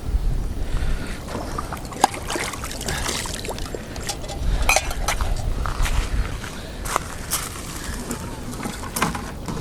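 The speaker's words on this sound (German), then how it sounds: "wenn wir schon am Wasser sind, nützen wir das aus und haben wir natürlich Geschirr abwaschen" Dishes being washed by hand in river water on the Danube bank: sloshing and pouring water with scattered clinks and taps of crockery, close by and steady, with light wind in the background.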